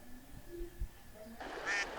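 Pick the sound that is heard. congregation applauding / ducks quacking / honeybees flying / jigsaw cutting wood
ducks quacking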